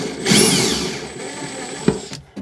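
A power drill drives stout screws that held an alternator regulator on a boat, a loud whirring burst near the start, then a brief sharp hit and a fade to quiet.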